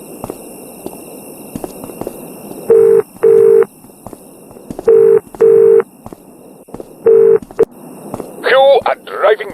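Telephone ringing in the Broken Sword adventure game, sounding as three pairs of steady electronic ring bursts evenly spaced, loud and close, over faint background clatter, followed by a short chirpy burst at the end.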